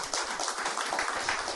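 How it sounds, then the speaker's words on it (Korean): A church congregation claps together after a service, a close, even patter of many hands that runs unbroken with no talk over it. "우리 같이 한번 박수 칩시다"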